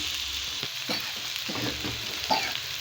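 Rice sautéing in a pan for a home-cooked tray dish gives off a soft, steady sizzle, with a few scraping stirs and small clinks of a utensil against the pan, close and fairly quiet.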